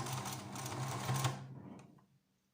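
A sewing machine runs steadily while stitching a fabric barrier face mask, its close, even mechanical whir holding for about a second and a half before it slows and stops, leaving quiet.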